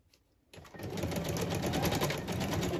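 A sewing machine stitches decoration onto an altered book, starting after a brief quiet moment and then running steadily and close with a fast, even mechanical rhythm, alone.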